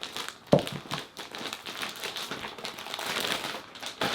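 Crinkling plastic packaging being pulled off a full-size body pillow, with close, irregular rustles and crackles and a sharper tear near the start.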